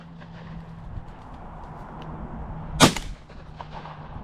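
A single shotgun blast during a pigeon shoot, a sharp distant crack rising out of low steady background noise about two-thirds of the way in, followed by a quick fading echo.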